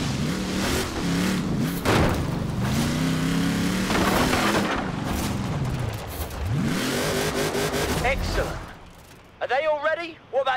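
Off-road car engine driving through sand dunes in Forza Horizon 4, a loud continuous revving drone rising and falling over about nine seconds, with voices speaking over it and a brief quieter tail at the end.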